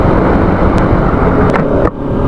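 A Bajaj Pulsar RS200 motorcycle rides along, captured on a helmet-mounted DJI Action 2, giving a loud, steady roar of engine and rushing wind that fills the whole stretch, with a brief dip near the end.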